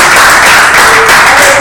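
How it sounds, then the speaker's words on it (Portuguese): A loud round of clapping from a church congregation during an evening service, a full, sustained burst of many hands with faint voices mixed in, lasting under two seconds. "salva de palmas ao"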